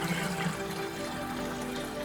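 Garden sprayer misting water over plants inside a greenhouse, giving a steady close hiss of fine spray that runs unbroken throughout.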